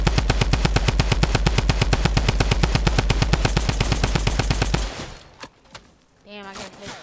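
Rapid automatic gunfire from the Fortnite video game rattles in a long, loud, steady burst of evenly spaced shots, then cuts off into quieter game sounds and faint chatter.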